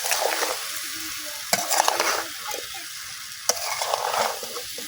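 Jujubes for a pickle sizzle steadily in a hot pan with a village kitchen feel, the frying hiss continuous while two sharp spatula scrapes cut through and stirring rustles on alone with no voices.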